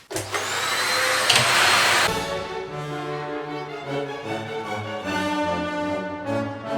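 A vacuum cleaner sucking up dust in a bathroom after renovation, around a sink and behind a washing machine. It whines loudly up close, then shifts pitch and hums steadily as the hose moves, with no talk.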